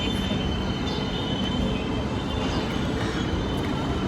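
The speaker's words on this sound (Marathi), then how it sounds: "आमची ट्रेन इथे आमची ट्रेन आलेली आहे." A passenger train rolls into a platform close by with a loud continuous rumble of wheels on rails and a faint metallic squeal above it.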